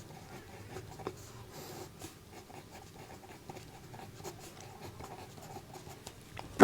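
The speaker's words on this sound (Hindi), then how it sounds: "तो यहां लिखेंगे" Pen scratching steadily on paper while a Class 10 maths solution on the Pythagoras theorem is written out, a continuous close, soft scribbling with small strokes and taps, with no talk.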